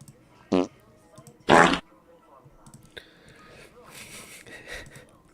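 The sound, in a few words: fart sound effect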